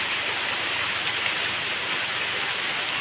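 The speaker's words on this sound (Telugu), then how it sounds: "ఇప్పుడైతే వర్షం ఫుల్గా వచ్చేస్తుంది" Heavy rain falls on a hut in a dense, even roar of drops that holds steady and close throughout, with no voices.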